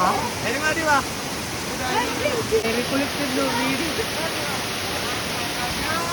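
A forest waterfall near Thrissur, Kerala, roars steadily up close, a constant rushing wash of water with voices talking briefly over it.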